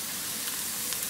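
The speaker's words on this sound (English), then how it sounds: "that's what I'm frying my veggies in here" Green onion and diced onion frying in ghee in a pan, a steady, close hiss of sizzling that holds at an even level throughout with no talking.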